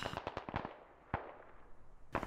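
Mortar shells hit during a military video game, heard as a series of sharp, fairly faint cracking bursts. A quick cluster comes first, then an isolated blast, then another at the end, with no voices.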